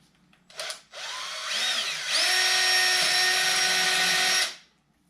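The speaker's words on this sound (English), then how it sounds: "just need to drill a hole on the inside of each of these. 1/4 inch." A power drill boring 1/4 inch holes into the inside of a Whirlyball portable goal frame, whirring up briefly, pausing, then running steadily and loud for a few seconds before cutting off.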